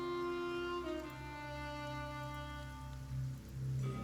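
Steady rain hisses through an area of the video game Pillars of Eternity, blending with a sustained musical score of held tones, with no talk over it.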